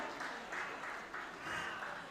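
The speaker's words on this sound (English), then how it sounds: "Another resounding applause for Mr. Oluwaseun Omoebameje." An audience at a youth digital training event applauds a speaker, a faint, distant patter of clapping that rises and falls in soft waves.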